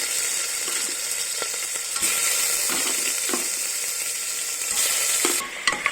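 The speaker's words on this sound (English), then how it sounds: "the tail chunks, and fry a bit" Oxtail chunks frying with whole cumin and coriander seeds, a loud steady sizzle close by with occasional stirring knocks and scrapes.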